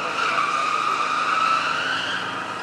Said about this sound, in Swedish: Låter bil och motor arbeta.